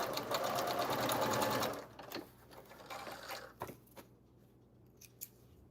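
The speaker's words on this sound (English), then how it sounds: "Can you imagine trying to use sewing machine with acrylic nails?" Sewing machine stitching in a steady rapid whir for nearly two seconds, then stopping, followed by a few quieter clicks and handling sounds.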